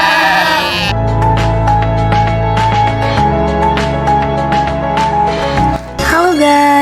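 Sheep bleat repeatedly at a sheep farm visited by a school group, loud, close cries with steady harmonic tones, overlapping one another almost continuously.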